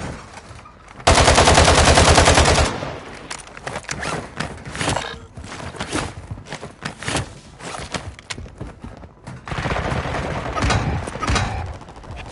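Gunfire in the video game Warzone 2.0: a loud sustained automatic burst up front, then scattered shots and rapid clicks, followed by another long rattling stream of fire near the end.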